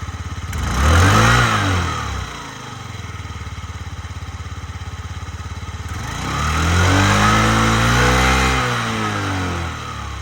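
A small Yamaha Jog SA36 fuel-injected scooter engine runs steadily, revving up twice with rising pitch and settling back to a lower idle between, close and fairly loud.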